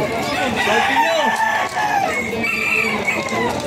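Chickens and roosters at a pet market in Malabon cluck and crow loudly and close, with several birds calling over one another against a busy market background.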